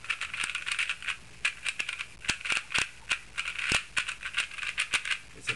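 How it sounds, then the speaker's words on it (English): A rough black speed cube being turned fast and loudly, a steady stream of clicky, rattling plastic clacks with frequent sharp snaps, close up and with no voices. "It's a very loud cube, as you can hear."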